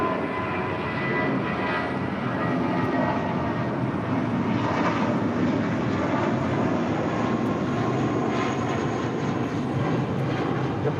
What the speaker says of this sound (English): That was JetBlue Airways, flight 1732, departing to Salt Lake City, Utah, on an A320